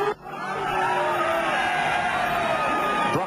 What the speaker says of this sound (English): listen for the crowd cheering as